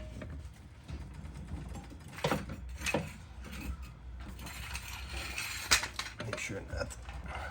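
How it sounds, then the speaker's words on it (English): Metal clinks and rattles of lug nuts being threaded back onto a rear wheel hub of a 2010 Honda CR-V 4WD by hand, several sharp taps over a steady low background hum. "we'll put these lug nuts back on hand tight so we don't cross thread anything"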